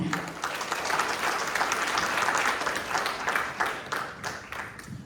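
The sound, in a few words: audience applause welcoming a speaker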